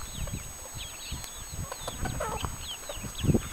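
A mother hen with her brood of chicks: high thin peeps from the chicks scatter through the clip over low soft clucks from the hen, close by and outdoors, with no one speaking.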